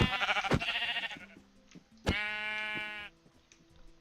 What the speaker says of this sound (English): Stupid sheep, get out of here.